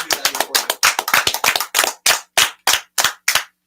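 A small audience at a live comedy and magic awards show claps in sharp, distinct bursts that thin out into a few separate, evenly spaced loud claps by the end.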